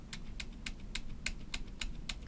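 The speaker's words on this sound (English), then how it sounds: "So I'm hitting Control Z until I go all the way back." Keys on a computer keyboard pressed again and again, Control Z for undo, as evenly spaced crisp clicks about every quarter second, faint and close, with no talk.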